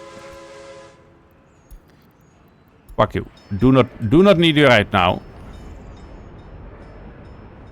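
A train horn sounds a steady, slightly distant blast in the city-building game Workers and Resources, set in 1947. It lasts about a second, then gives way to quiet and someone speaking close by.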